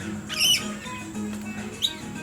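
Corellas at a bird sanctuary give two short, harsh squawks, one early and one near the end, over a low steady background hum.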